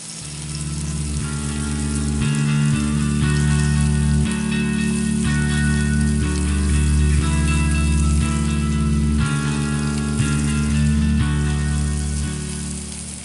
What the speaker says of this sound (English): start out with one slice of just chopped up bacon. Go ahead and let that start rendering